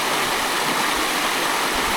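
Clear stream water near Katahdin Stream Campground rushes in a loud, steady, close wash of flowing water, with no voices.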